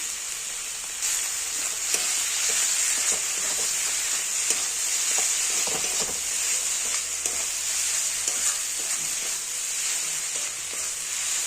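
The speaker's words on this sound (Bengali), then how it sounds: "বাঁধাকপি ভাজা অনেকটা হয়ে এসছে" Steady sizzling of cabbage frying in a pan, a constant bright hiss with occasional soft clicks and scrapes, close and fairly loud, no voices.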